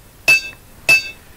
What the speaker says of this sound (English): as long as you keep your hammer blows quite controlled, you'll find that the edge doesn't become as wavy